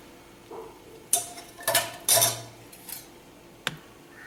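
A spoon clinks and scrapes against a bowl while herbal shampoo powder with hibiscus and curry leaves is mixed into a liquid, in a few irregular, fairly close strokes and taps with no talking.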